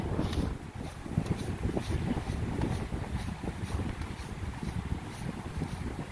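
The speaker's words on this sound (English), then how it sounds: "It's still really super windy." Strong wind on an exposed mountainside roars and buffets continuously, gusting loudly against the microphone with steady low rumble throughout.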